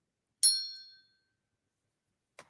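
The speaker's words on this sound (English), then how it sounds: "This bell has a ring to it." A bell struck once with mallet number one gives a bright, sharp metallic ding that rings out and decays over about half a second, followed much later by a faint brief tap.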